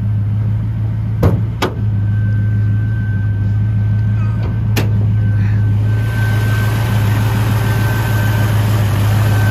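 A 1964 Ford Mustang V8 idles in a smooth, steady low hum with a few sharp clicks early on, and stays close and constant throughout.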